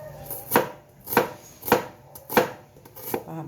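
Knife chopping an onion lengthwise on a cutting board for Ilocano dinakdakan, five or six evenly spaced, crisp, close thuds with short gaps, heard alone without talk.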